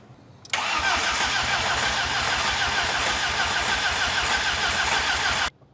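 Volkswagen GTI engine, sitting unused for ten years, cranks and catches on the first try, then settles into a steady, smooth idle that holds loud and close before cutting off.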